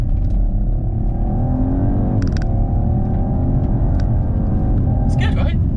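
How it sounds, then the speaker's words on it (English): A 2020 Audi RS4 Avant's V6 with sports exhaust revs up in smooth rising sweeps, dips briefly and climbs again. Its deep, steady tone sits close, with a few short bursts of other noise on top. "let's just listen to how it sounds, particularly with this sports exhaust"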